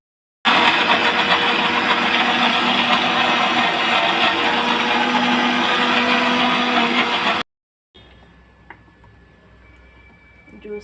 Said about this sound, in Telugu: ఇప్పుడు జ్యూస్ జార్లు మిక్సీ